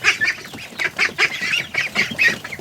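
Several young Muscovy ducklings peep and squeak insistently in quick, overlapping bursts, close and fairly loud, a steady chorus of high, strained calls with no talking.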